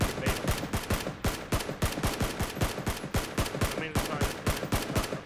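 Rapid automatic gunfire in PLAYERUNKNOWN'S BATTLEGROUNDS, a steady string of sharp, evenly spaced shots firing about four per second for several seconds, loud and close, with faint voices in the background.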